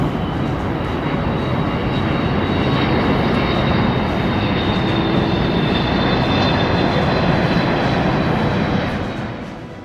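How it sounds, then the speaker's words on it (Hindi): An IndiGo Airbus A320 airliner roars steadily as it lands, a loud, dense broadband jet rumble holding for several seconds before easing slightly at the end, no voices. "इंडिगो एयरलाइंस के एयरबेस A320 विमान ने सफलतापूर्वक लैंडिंग की है"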